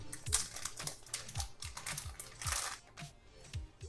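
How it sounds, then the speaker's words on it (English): A hard plastic case for a DJI Action 4 camera being opened, with a run of quick plastic clicks, snaps and rattling handling noises close up and no talking. "this is your hard plastic case. Let's open it."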